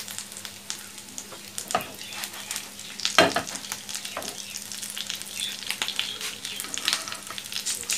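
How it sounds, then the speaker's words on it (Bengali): Potato and egg kababs shallow frying in oil give a continuous close sizzle and crackle, broken by a few sharper scrapes and spatters as they are turned, with no voices. "প্রত্যেকটা কাবাব ভেজে নিতে হবে আমরা শ্যালো ফ্রাই করবো"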